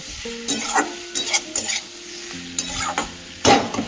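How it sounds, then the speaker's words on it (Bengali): Potatoes being stir-fried with spices in a pan for katla fish curry, a soft sizzle under intermittent scraping and clinking of a spatula against the pan, with irregular strokes and no talking. "আলুগুলো দিয়ে ভালো করে মশলার সাথে কষিয়ে নেব।"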